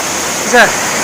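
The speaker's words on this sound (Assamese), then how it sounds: "চাওক ৱাটাৰফলটো এবাৰ দেখাই দিছোঁ ভালকৈ" Linhojar waterfall in West Karbi Anglong gives a steady, close rushing roar of falling water that fills the whole clip, with a brief voice rising over it near the middle.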